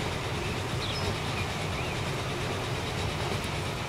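Hiawatha-line passenger train in Transport Fever running between Thunder Bay and Chicago, a steady loud rolling rumble with faint wheel clatter, continuous throughout without any voices.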